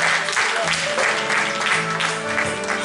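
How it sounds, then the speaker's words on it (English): Church congregation clapping hands in praise during a Mother's Day honoring service, a dense, continuous wash of applause from many people with rhythmic swells and a voice speaking over it. "clap your hands and give God some praise today"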